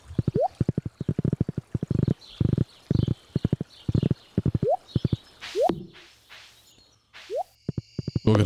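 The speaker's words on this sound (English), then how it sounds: "just going around on a little horsey" Repeated horse hooves clip-clop in quick rhythmic bursts as a little horse is ridden around in the Stardew Valley video game, mixed with short game jingles and chimes.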